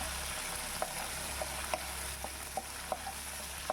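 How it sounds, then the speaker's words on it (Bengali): Sliced onion frying lightly in a pan, giving a steady soft sizzle with occasional small pops and spatters, moderately faint and without voices. "এখানে পেঁয়াজটা হালকা করে ভেজে নিচ্ছি"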